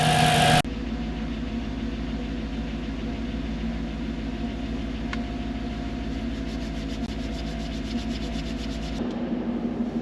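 A Mercedes C55 AMG engine idles steadily in its engine bay, a smooth, even drone heard close up with a faint rhythmic pulse running underneath, no voices present.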